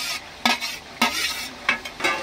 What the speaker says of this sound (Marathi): आता हे आपण फास्ट गॅसवर कंटिन्यू मिक्स करत राहायचं